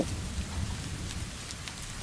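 Steady rain pours down in a dense, even hiss, with a low rumble underneath.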